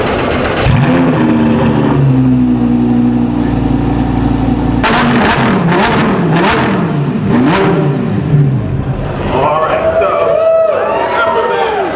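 A McLaren Senna's engine revs at the Pittsburgh International Auto Show, loud rising and falling engine notes with people talking nearby.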